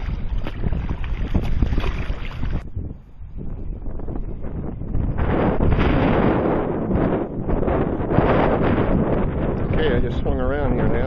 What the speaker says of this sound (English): at least I'm paddling into the wind